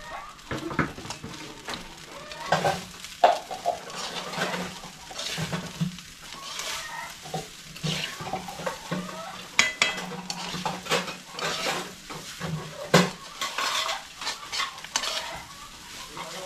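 Filipino fried rice, sinangag, stir-frying in a pan: steady sizzling with repeated scraping and clattering of a utensil against the metal, loud and close, with no talk.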